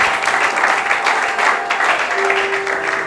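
A church congregation claps together in a steady, sustained burst of applause that fills the room from start to end, with a faint held tone near the end.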